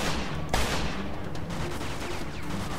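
Dense, sustained automatic weapon fire in the Mafia II video game, a steady rattling barrage with one sharper burst near the start, loud and continuous with no talking.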